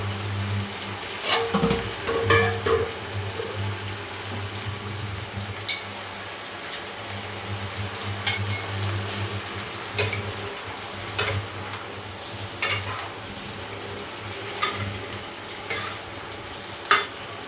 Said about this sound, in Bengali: এখন আমি এই কেটে রাখা আলুগুলোকে এর মধ্যে মিশিয়ে নিলাম